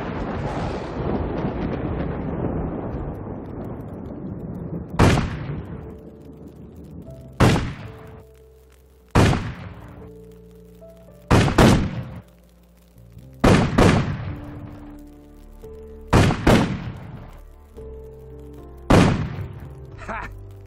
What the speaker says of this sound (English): Now it's time for some shooting.